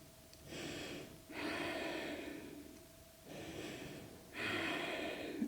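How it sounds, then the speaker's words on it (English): Slow, deep breaths taken during a hatha yoga pose: three long airy inhales and exhales in a steady rhythm, close and clear, with no talking. "Taking a few deep breaths here."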